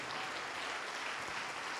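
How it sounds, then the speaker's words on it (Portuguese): Church congregation clapping during a service, a dense, steady wash of applause from many hands, fairly faint and continuous for the short moment. "Vamos aplaudir mais ao nome de Jesus."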